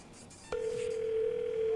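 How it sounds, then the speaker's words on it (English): A telephone dial tone in the Space Station 13 video game cuts in abruptly after a half-second of quiet room noise, then holds as a steady, loud, unbroken hum to the end. "I have access to this here phone, which I'm going to use to call the bridge."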